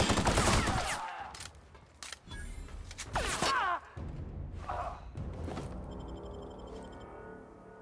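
Gunfire from The Outer Worlds game erupts in sharp bursts and scattered shots, with loud volleys early on, a heavy thumping stretch midway and quieter rattling toward the end.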